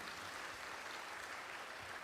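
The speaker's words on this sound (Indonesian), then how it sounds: "Tepuk tangan untuk Bapak Ibu semuanya" A crowd applauds at the inauguration of a school, Garuda SMA Pradita Dirgantara, giving a dense, steady wash of clapping from a large audience, with no voices standing out.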